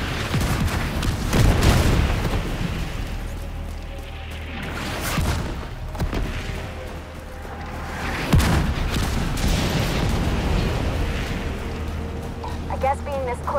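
Booming explosions and bursts of gunfire from a Division 2 battle at the Coney Island ballpark, with heavy blasts rolling through a sustained firefight while voices talk over the action.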